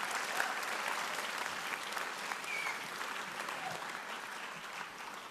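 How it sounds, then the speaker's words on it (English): A large audience at a university convocation ceremony applauds the faculty, giving a steady, dense wash of clapping heard at moderate distance through the whole stretch. "Please join me again in a round of applause for the faculty of William Paterson University."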